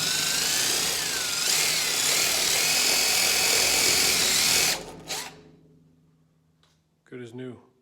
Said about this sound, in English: What I do is I get these wire wheels and my impact gun.